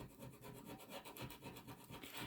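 A scraper drags across a reusable chalk coaster to lift off ink, giving a steady, close, continuous rasping scrape with repeated strokes throughout.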